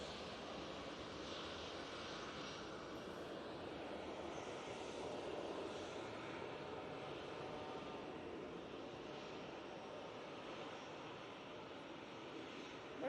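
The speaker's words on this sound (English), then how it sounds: "Ryanair off to Lisbon now using the 737-800." A Ryanair Boeing 737-800 departs Manchester Airport bound for Lisbon, its jet engines a steady, broad roar held at an even level for the whole stretch, with no voices.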